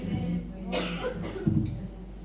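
A woman preacher coughs during a church exhortation, a couple of brief throaty bursts near the microphone over a low steady hum, with some speech-like vocal sounds around them.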